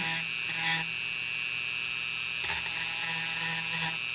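A steady whining drill runs throughout, with short harsher bursts where the bit bites into the plastic ring of a PetSafe battery compartment, heard close and without speech.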